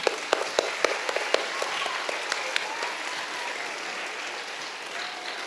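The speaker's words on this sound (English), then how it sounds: "Please give them a big round of applause." An audience at a school Filipiniana assembly claps for performers, with a few sharp claps at the start merging into steady, sustained applause throughout.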